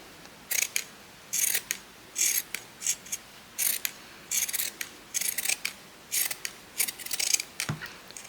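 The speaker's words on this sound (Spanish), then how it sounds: "luego cortamos los excedentes" Scissors snip away excess fabric around a sewn cloth Easter bunny doll, a run of crisp, close metallic cuts in quick irregular bursts with short pauses between them, no voices.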